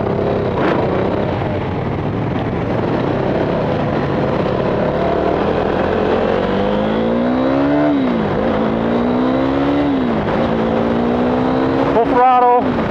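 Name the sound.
KTM Duke 390 motorcycle engine at full throttle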